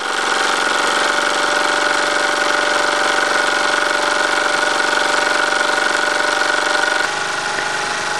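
A Wilesco D222 toy steam engine runs on live steam with a steady, loud whirring and hissing drone, a constant mechanical hum that shifts slightly near the end.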